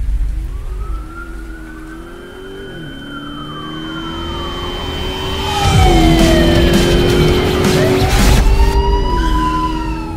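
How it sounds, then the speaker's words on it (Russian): In a video game, a car surges loudly close by, its engine rising to a roar with wailing siren-like tones sweeping up and down. "Меня чуть не сбила машина."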